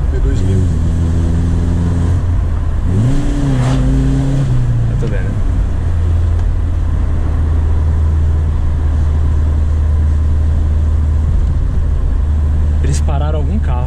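A 1996 VW Quantum GLSi with an AP 2000 engine is heard from onboard while driving: a steady, loud low engine drone with rising and falling tones that runs throughout, with people talking over it.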